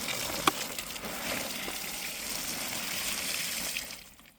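Water poured from a bucket gushes out in a steady pour for a few seconds, then tapers off as the flow ends.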